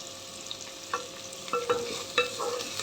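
Ginger paste goes into a sizzling pan of gravy already seasoned with pepper and is stirred, with steady frying hiss and a few close scraping strokes of a spoon against the pan.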